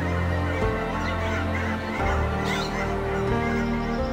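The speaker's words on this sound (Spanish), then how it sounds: "Humedales de diferentes características y alturas son el paraíso de las aves." Geese in a Latin American wetland honk loudly and repeatedly up close, their harsh calls overlapping continuously with other bird calls.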